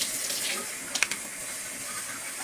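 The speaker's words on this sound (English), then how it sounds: "I'm just gonna let my water run for a minute." Steady broadband hiss of warm tap water running into a sink, continuous and moderately close, with a brief splashy clatter partway through.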